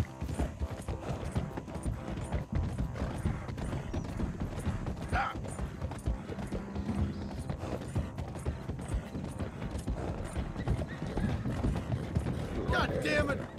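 Horse hooves clip-clop in a steady galloping rhythm in Red Dead Redemption 2, with tack and gear rattling and a brief whinny. A voice is heard over the game sounds.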